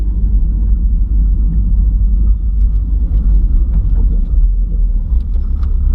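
Car fitted with an electric turbo, sitting with torque amp on while foot-braked before a launch, giving a close, heavy, steady low rumble with no clear rise in pitch.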